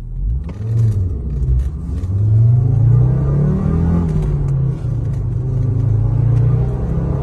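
A Renault Safrane engine revs and roars close by, pitch climbing and dropping abruptly as its worn gearbox changes gears roughly, with rumbling throughout.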